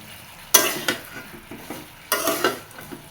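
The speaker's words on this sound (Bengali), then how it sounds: "সরিষা দিয়ে একটু নাড়াচাড়া দিয়ে হালকা জল দিয়ে দিই" A spoon stirs mustard paste in a cooking pan, giving two quiet scraping strokes over a faint sizzle, with no talk.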